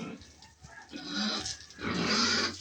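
A hungry pig on a backyard farm makes short, uneven grunts and rising squeals at close range, growing louder toward the end.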